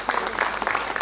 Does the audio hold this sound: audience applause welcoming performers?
yes